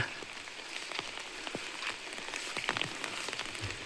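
Light drizzling rain falls at a garden house in the middle of a forest, a soft constant patter with scattered individual drops ticking on nearby surfaces, no voices.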